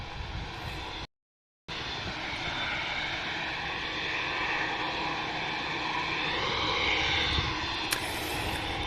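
A Ryanair airliner at Manchester Airport produces a loud, continuous jet engine roar that shifts in pitch as it passes, with no talk.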